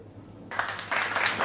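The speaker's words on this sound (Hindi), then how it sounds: "सो तालियां तो बनती हैं यार" Applause starting abruptly after a quiet moment, a short burst of many claps surging in two waves, close and fairly loud, probably a sound effect in an unboxing vlog.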